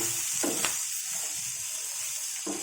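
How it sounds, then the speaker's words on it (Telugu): Peanuts frying in oil in a pan for a curry give a steady, close, hissing sizzle throughout, with a couple of brief louder spits, and no voices. "దీంట్లో మెయిన్ పల్లీలు వేగుతాయి"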